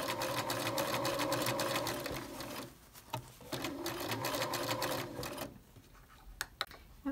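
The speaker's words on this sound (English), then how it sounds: "I'm just gonna sew straight along that piping." A sewing machine stitches a straight seam along piping on a dress bodice waist, running steadily and fairly quietly for a few seconds, pausing briefly, resuming, then stopping with a few faint clicks.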